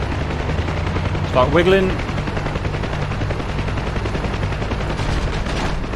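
Heavy .50 cal machine-gun ground fire striking a helicopter in DCS World, dense rattling bursts running steadily under engine rumble, with someone speaking briefly over it.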